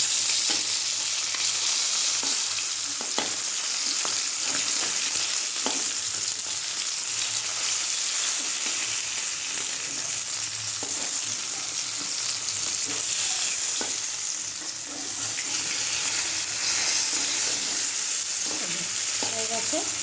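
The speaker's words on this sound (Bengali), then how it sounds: "তেল গরম হয়ে গেছে, এই যে মাছ ভাজা হয়ে গেছে" Fish sizzles and crackles in hot oil in a pan, a loud continuous hiss with scattered pops and occasional scraping as the pieces are moved, with no talk over it.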